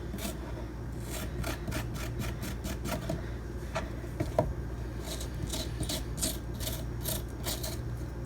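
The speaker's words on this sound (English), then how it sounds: "I'm going to take the lime to clean off the yam" Lime rubbed and scraped over a yam's skin, a steady close rasping with repeated rhythmic strokes that continue evenly throughout, fairly quiet and without talk.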